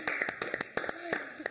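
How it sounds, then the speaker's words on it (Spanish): A few people clap at a gathering after a televised music academy show, scattered individual claps rather than a full ovation, faint and close, with brief voices mixed in. "Un aplauso por todo otra vez."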